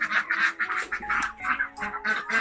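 Large fat farm ducks quack loudly and repeatedly up close, a rapid overlapping series of harsh nasal calls with no pauses.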